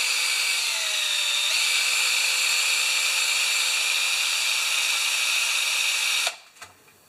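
A power drill whirs steadily and loudly for about six seconds while working on a Honda EB2200X generator's carburetor parts, then cuts off, leaving a few faint knocks and clatters.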